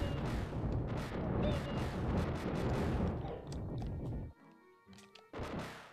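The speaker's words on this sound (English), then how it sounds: "There's lots of things blasting and torching you all over the place. Just gotta keep shooting." Rapid blaster fire and booming explosions from the 1992 SNES game Super Star Wars, a dense loud barrage of shots and blasts that thins out and drops off before a final burst near the end.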